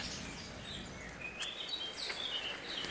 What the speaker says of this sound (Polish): To chyba słowik nadaje